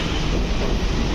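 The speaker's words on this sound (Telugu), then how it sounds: "ట్రైన్ ఇప్పుడు చెన్నై ఎగ్మోర్ దాటింది." Loud, steady rumble of an AC EMU local train running through Chennai Egmore station on the Chennai Beach to Tambaram line, dense and continuous with no voices.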